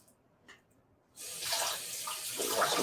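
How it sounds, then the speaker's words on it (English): Kitchen tap turned on for hand washing at a sink, a steady close hiss of running water starting abruptly after a quiet moment and continuing alone. "wash my hands a little bit."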